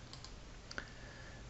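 A few light clicks from HP Prime calculator keys, the sharpest single press near the middle, very quiet and close over faint background hiss.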